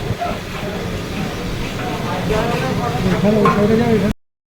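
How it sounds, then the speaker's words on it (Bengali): Chow mein being stir-fried on a busy food stall wok, a steady scraping and sizzling that builds louder toward the end, close by under crowd chatter and voices. "দাদা কিন্তু আবার নতুন করে চাউমিন ভাজছে"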